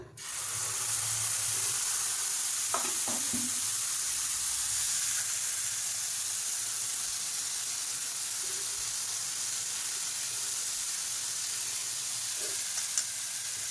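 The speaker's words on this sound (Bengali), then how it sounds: "একটুখানি তাওয়ায় তেল দিয়ে দিয়েছি আর এখন ওটস একটু দিয়ে দেবো" Oats frying in a little oil on a tawa give a steady, close sizzle that runs the whole time, with a few soft stirring clinks early on and no talking.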